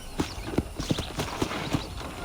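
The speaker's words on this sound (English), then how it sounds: "I picked out a fine horse for you." Hooves of a horse in Red Dead Redemption on PC clip-clop in a steady walking rhythm, about six distinct strikes close by over a light ambient background.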